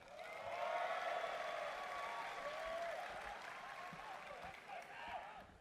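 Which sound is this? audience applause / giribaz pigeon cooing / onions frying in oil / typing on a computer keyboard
audience applause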